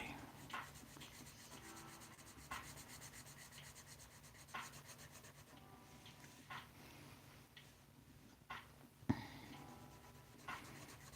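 A colored pencil laid down very lightly on paper, a soft, continuous scratchy rubbing with faint periodic strokes and an occasional tap, quiet and close over a low room hum.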